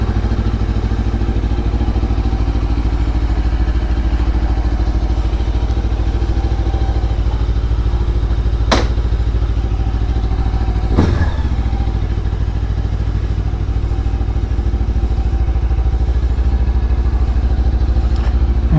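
A Lifan KPT 400 motorcycle with a 43-tooth rear sprocket runs steadily while being ridden, its engine drone loud and close throughout, with a couple of sharp clanks partway through.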